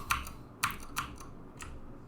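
Four sharp, separate keystrokes or clicks on a computer keyboard sound close and clear, spaced irregularly over a quiet background.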